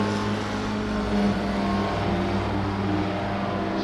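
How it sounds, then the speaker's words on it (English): Race cars in a racing game at Imola make a dense, steady engine whine and drone, loud and continuous with no gaps, several engines layered together. "he's going to hear the cars zooming past him"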